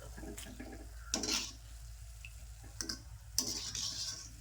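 Snacks frying in hot oil give a soft sizzle, with scattered clatters and stirring scrapes and a few louder bursts. The sounds are fairly faint and close, and no one speaks.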